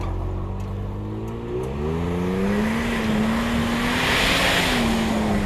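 A Toyota climbing a snowy trail revs hard on the throttle, its engine note rising and holding steady as it gains speed, loud and near with no talking.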